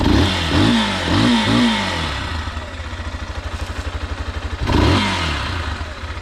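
A Geon X-Road Light 200 motorcycle engine with 7,500 km of use revs up in several quick bursts, settles into a steady putter, then revs once more, loud and close.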